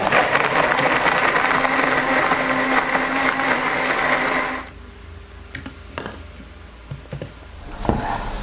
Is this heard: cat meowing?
no